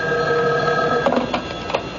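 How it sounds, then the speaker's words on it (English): An old-fashioned telephone bell rings in a quiet room, a steady trilling ring followed by a couple of short clicks and bursts as the handset is lifted. "Excuse me, that's my phone."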